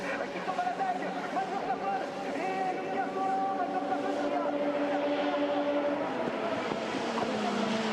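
FIA F3 race cars battling down the Kemmel Straight at Spa-Francorchamps, engines whining steadily at a distance under continuous commentary, with a pitch shift as a car passes.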